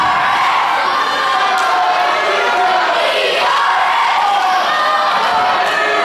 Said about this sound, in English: Awesome crowd here in Minneola.